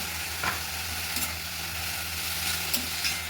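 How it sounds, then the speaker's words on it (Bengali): Black cumin, garlic and green chili fry in hot oil in a wok, a dense continuous close sizzle with a few soft stirring knocks and a low steady hum beneath. "কালো জিরে, রসুন, কাঁচা লঙ্কা কড়াইয়ে তেলে নিয়েছি।"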